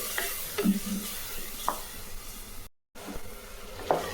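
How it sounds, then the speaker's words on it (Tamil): Ground tomatoes sautéing in oil in a pan for tomato dal rice, a steady close sizzle and hiss with occasional scrape of a stirring spoon and one short gap of silence. "இது கொஞ்ச நேரம் வதக்கலாம்."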